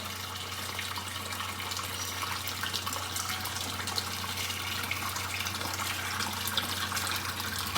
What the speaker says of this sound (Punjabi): ਇਹਦੇ ਵਿੱਚ ਨਾ ਤੁਸੀਂ ਪਾਉਣਾ ਹੈ ਪਾਣੀ ਇਹਨੂੰ ਨਾ ਤੁਸੀਂ ਨਾ ਉੱਪਰ ਤੱਕ ਚੰਗੀ ਤਰ੍ਹਾਂ ਭਰ ਲੈਣਾ ਹੈ